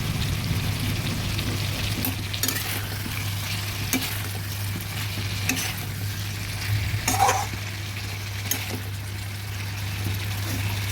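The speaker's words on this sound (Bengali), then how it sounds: "ভাজা আলুগুলো দিয়ে এবার সব কিছু মিশিয়ে নেব।" Fried potatoes being stirred into a rohu fish curry with drumstick stalks in a pan, giving a steady sizzle with scraping stir strokes throughout and no talking.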